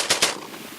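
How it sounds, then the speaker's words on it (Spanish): Machine gun sound effect for game audio design, two sharp close shots in quick succession followed by a fading echo tail. "Machine gun."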